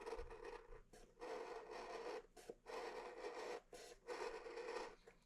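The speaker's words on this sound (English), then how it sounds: "we're going to do is put the razor blade flush on the house, and we're just going to ride along the house." A razor blade scrapes along the wall of a scratch-built O gauge model house in repeated sawing passes, each a close, dry rasping burst separated by brief pauses.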